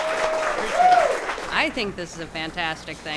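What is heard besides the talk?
round of applause for a brewery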